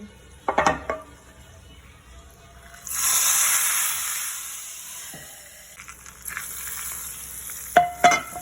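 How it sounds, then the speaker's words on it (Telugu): A sudden burst of hot sizzling as tempering hits buttermilk soup, hissing loudly then fading, framed by a few clinks of utensils. "ఇప్పుడు ఈ పోపుని మనం సిద్ధం చేసుకున్న మజ్జిగ చారులో వేసుకోవడమే"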